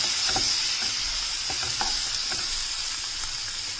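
Sliced onion sizzles in two big tablespoons of hot butter in a pan over a high gas flame, a steady close-up hiss with a few soft stirring knocks scattered through it.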